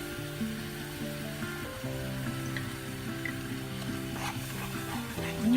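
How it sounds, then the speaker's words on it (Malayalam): A burfi mixture of coconut, milk, sugar and ghee being stirred in a pan, a soft scraping and gentle sizzle close by, running steadily without talk. "എല്ലാ ഇൻഗ്രീഡിയൻസും കൂടി നമുക്കിനി മിക്സ് ചെയ്യാം."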